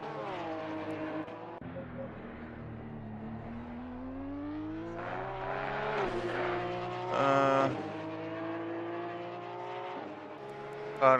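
Cup-class race cars circling Spa in a console racing game, with engines droning and shifting pitch as they rise and fall in loudness, one car revving harder midway, heard as a steady layered engine hum.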